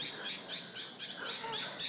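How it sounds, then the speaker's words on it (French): A bird squawks and squeals repeatedly in shrill, high calls over two seconds, fairly close and continuous, with no talk. "il est content l'oiseau"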